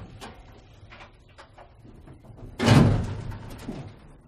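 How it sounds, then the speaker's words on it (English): An elevator door rolls shut with a sudden loud, rumbling slide that fades over about a second, preceded by faint scattered clicks and machinery noise. "If you stop part way, the door will go to close again."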